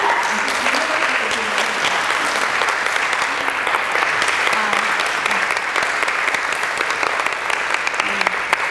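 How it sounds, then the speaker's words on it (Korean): A packed audience at an author's lecture in a Kyobo bookstore in Gangnam gives a big, sustained round of applause welcoming the speaker, loud dense clapping continuing evenly for nearly nine seconds, with faint voices underneath. "큰 박수로 모시겠습니다."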